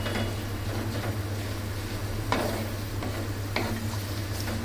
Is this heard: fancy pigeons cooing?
no